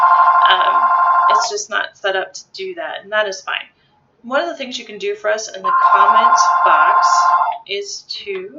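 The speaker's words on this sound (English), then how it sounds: "Excuse the phone here." An office telephone rings in two long electronic bursts, one at the start and one later, loud and close, while a person keeps talking over and between the rings.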